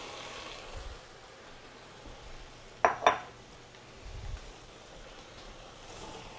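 Vegetables such as potatoes go into a beef stew pot, giving two quick, close clinks and thuds against the pot in a quiet kitchen, with soft bumps before and after.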